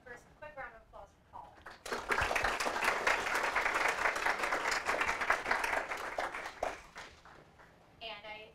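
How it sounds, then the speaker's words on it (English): A speaker talks briefly, then a conference audience at a security talk breaks into a hearty round of applause that holds for several seconds and fades, followed by more talk. "a quick round of applause for"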